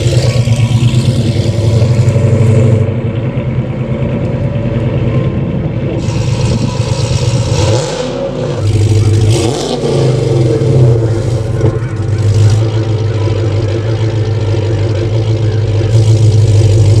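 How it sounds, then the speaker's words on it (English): A 2015-20 Dodge Challenger Hellcat fitted with a Stainless Works Redline or Legend Series exhaust, loud and close, idling with a deep rumble and blipping the throttle into several sharp revs. "we're excited to release our Redline and Legend Series exhaust for the Dodge Challenger"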